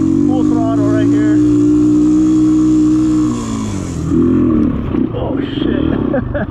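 A Honda XR200 dirt bike engine held at full throttle while climbing, a loud steady drone for about three seconds that dips and turns rougher, with a voice speaking over it.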